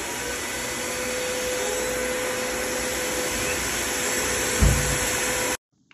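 Small fan on a Kaeser 22T compressor and dryer unit, a loud, steady broadband whir with a faint constant tone, running evenly for several seconds before cutting off abruptly.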